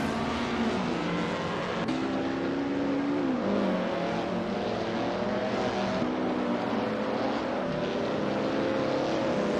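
1950s Formula 1 race car engines roar continuously in a racing video game set at Bridgehampton, with several engines whining and shifting pitch as cars pass, loud and steady throughout with no talk.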